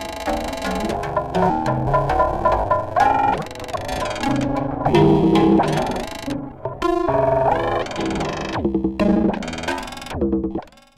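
Bioelectric signals from two mushrooms, converted into sound, form a dense, warbling electronic drone of layered, effect-heavy tones that shift and stutter continuously for about eleven seconds before cutting off.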